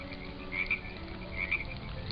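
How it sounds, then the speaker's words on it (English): Recording of a frog croaking, a faint pair of short croak bursts repeated twice over a quiet hiss, no voices. "If we turn on a recording with sounds of any animal, a frog for example"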